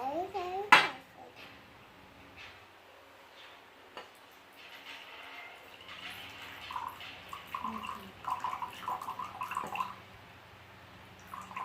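Water is poured carefully from a container onto a plate, with a sharp clink of dishware near the start followed by soft splashing, trickling and light knocks of crockery.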